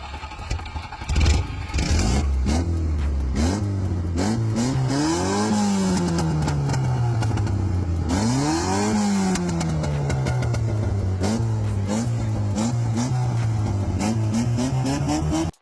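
A small 1.3-litre petrol car engine idles, then revs up and down twice in rising and falling sweeps, close by and steady, with no talking.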